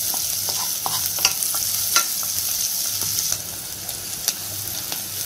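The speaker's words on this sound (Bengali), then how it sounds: "এটাকে আমি একটু ভালোভাবে নেড়ে হালকা একটু ভেজে নেব।" Onion, garlic and green chili stir-fried with a little salt in a pan, a steady close sizzle broken by repeated scraping clicks of the spatula.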